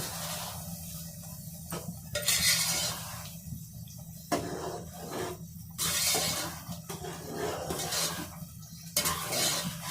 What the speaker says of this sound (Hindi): शीरा डाल, इसको हम जल्दी जल्दी से इसको हम मिक्स कर देंगे